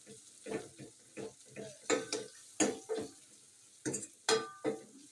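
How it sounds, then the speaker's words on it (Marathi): Tomato being mashed into roasting masala in a pan, with repeated scraping, pressing strokes in an uneven rhythm and faint sizzling underneath, close and fairly quiet. "असं मॅश टोमॅटो मॅश करून घ्यायचा"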